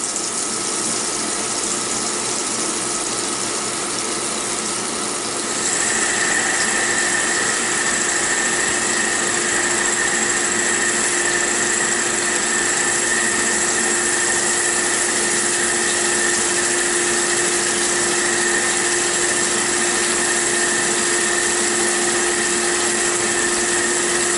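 A machine tool cuts a ball nut mounting plate with coolant flowing at about 750 RPM and a 1 inch per minute feed, giving a steady loud machining whine with sustained tones that shift slightly after a few seconds.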